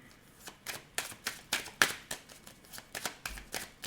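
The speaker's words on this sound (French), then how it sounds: "On fait notre petit tirage en 9 cartes." Tarot cards are shuffled by hand for a nine-card reading, giving a close, quiet series of rhythmic riffling bursts about every quarter second with no talking.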